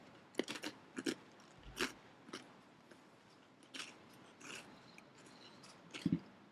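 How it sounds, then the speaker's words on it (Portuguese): Someone chews caramelized onion with porcini, producing irregular soft crunches and wet bites with pauses between them, close to the microphone. "Só terminar de mastigar"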